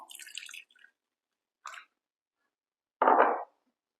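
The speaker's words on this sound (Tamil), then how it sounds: "இப்போ நம்ம இதில் வார்ம் வாட்டர் ஆட் பண்ண போகிறோம்" Warm water splashes in short, separate spurts into flour, sugar and salt in a bowl for flatbread dough: three brief, close wet plops with silence between them.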